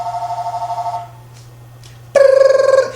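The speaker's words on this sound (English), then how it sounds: "Here's the damn phone again." A telephone rings close by in a room, with one warbling ring tone that stops, a short pause, then a second louder burst of ringing.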